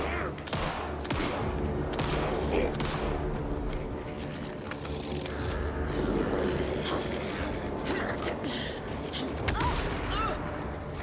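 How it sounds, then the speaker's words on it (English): Rapid enemy gunfire in Alan Wake II, repeated bursts and sharp shots cracking over a continuous rumbling background, loud and close with a voice talking in between. "It's a little hard to dodge bullets."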